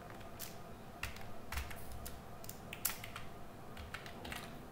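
Someone types on a computer keyboard while working with data in Power BI, producing irregular bursts of quiet, crisp key clicks with short pauses between them.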